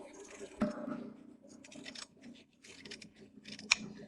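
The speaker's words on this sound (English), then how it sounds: "I want to trim this fringe off." Scissors trim the fringe from the border fabric of a boat cushion, with a few sharp snips and some quieter cutting between them, close up and without speech.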